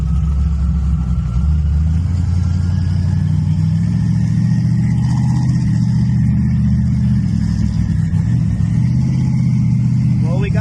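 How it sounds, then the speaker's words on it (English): Nissan 300ZX engine with a leaking intake manifold gasket, running with a steady loud low rumble and mild revving throughout while people talk over it. "I guess the new gasket on the intake manifold is not working"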